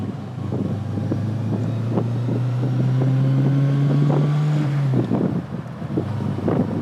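A Honda S800 convertible revs hard while accelerating through the gears, a rising engine tone climbing steadily before dropping at a shift, with wind buffeting throughout.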